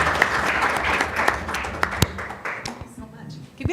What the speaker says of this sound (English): Can we get another round of applause for both presenters?